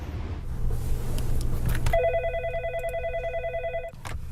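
A telephone rings with a bright, warbling electronic tone for about two seconds, close and clear, following a stretch of low background rumble.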